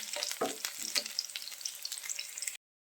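A green chili fries in hot oil in a pan for chicken cutlets, making a steady, close sizzle with a few soft stirring knocks before it cuts off abruptly.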